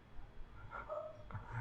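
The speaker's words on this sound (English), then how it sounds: "Don't know whether you can hear my dog." A dog heard faintly in the background, a short bark and whimpering yips over a quiet room, with no talking.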